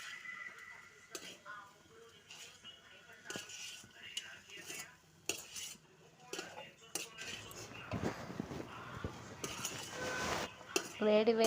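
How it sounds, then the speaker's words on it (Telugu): A spoon scrapes and clinks in a pan as cooked chenchala leaves are mixed with spice powder, irregular stirring knocks under soft background voices that grow busier toward the end. "ముందుగా రెడీ చేసుకున్న పొడిని అందులో వేసి బాగా కలుపుకోవాలి"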